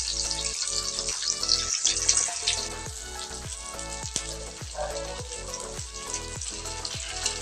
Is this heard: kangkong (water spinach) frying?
yes